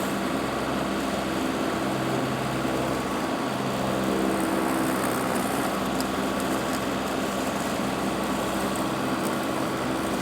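A tractor-mounted brush cutter, powered by a rear power pack, runs continuously nearby, a loud steady mechanical drone with high whining overtones and occasional rattling, no talking.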